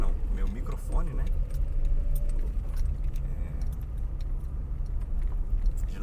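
Inside a moving car, a steady low engine and road rumble runs throughout, with keys jangling lightly and a person talking over it.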